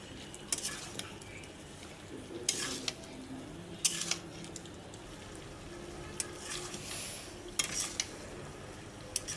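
Potatoes are stirred into a curry in a pan, with repeated scraping and clacking strokes of a spoon against the pan over a soft sizzle, close up and without speech.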